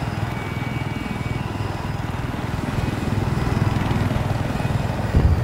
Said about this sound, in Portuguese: Parece haver um helicóptero hostil.